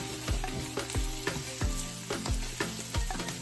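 Spinach wilting in a hot pan for an omelette, a steady sizzle punctuated by about eight sharp, regular knocks or taps of a utensil against the pan.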